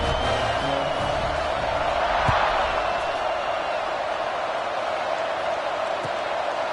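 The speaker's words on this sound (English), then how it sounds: "this crowd is feeling themselves after that last drive" A football stadium crowd at a Florida State versus Florida game roars in a steady, dense wash of noise after a scoring drive, continuous with no distinct claps or voices.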